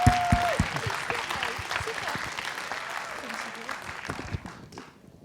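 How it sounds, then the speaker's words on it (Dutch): A hall audience at a Limburgish poetry recitation contest in Panningen bursts into applause for a young contestant, a loud dense patter of clapping that slowly thins and fades out by the end. "Applaus!"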